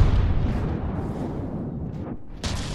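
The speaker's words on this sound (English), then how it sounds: "Will the mortars ever manage to hit this bathtub with how much the recoil throws it around?" Mortars fire from a wobbling bathtub in the Besiege building game: a dense, rumbling barrage of low booms rolls on continuously, with a sharper burst near the end.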